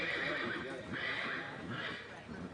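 A horse whinnies at a Lexington horse sale, a drawn-out neigh rising and falling over busy crowd noise and nearby talk.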